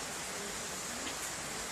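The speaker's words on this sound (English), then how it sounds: "And the rain is coming down. It's raining." Steady rain falls near a beach in Jamaica as a dense, even hiss with no voices, holding at a constant moderate level throughout.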